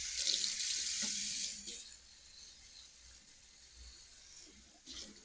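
Bell peppers washed under a running kitchen tap, giving a close, steady rush of water that splashes for a moment and then eases into a quieter trickle.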